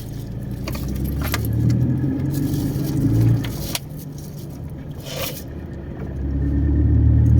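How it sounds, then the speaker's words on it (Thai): Car starting up and idling for the drive to work, with keys jangling and scraping in the ignition, then a low engine rumble that rises and settles again, fairly close and steady. "กำลังเดินทางไปทำงานเปิดรถยนต์"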